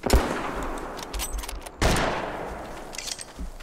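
Rapid bursts of gunfire in a prehistoric dinosaur-hunting video game, loud and close, with a sharp shot at the start and a heavier volley midway, almost no talk over it.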